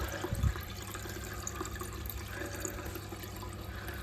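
A toilet cistern refilling through a newly replaced fill valve, a steady hiss of rushing water running throughout at moderate level after a brief knock at the start.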